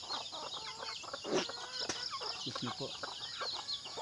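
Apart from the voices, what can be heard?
black Australorp chickens and chicks clucking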